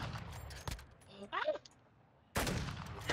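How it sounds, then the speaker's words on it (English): Modern Warfare 2 gunfire: a single sharp shot, then a brief pause and a loud sustained burst of rapid fire near the end, close, with a voice briefly in between. "They're shooting at me!"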